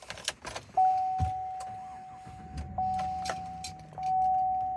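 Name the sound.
GMC Sierra 1500 SLT truck starting up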